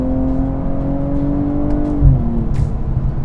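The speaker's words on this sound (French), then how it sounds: "une petite accélération, on passe le mode sport, on rétrograde et c'est reparti." A BMW car in sport mode accelerates with a steady engine drone, its pitch holding, then dropping briefly around a downshift before rising again, loud and close with no talk.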